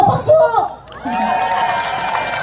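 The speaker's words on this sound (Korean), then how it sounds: "감사합니다. 박수!" Audience at an outdoor trot concert in Goseong, South Gyeongnam, applauding and cheering. The crowd noise swells after a moment, with a voice talking over it.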